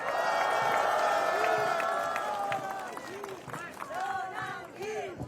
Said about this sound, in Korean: 안 계시지만 우리 전환기 선생님에 대해서 박수 한번 부탁드립니다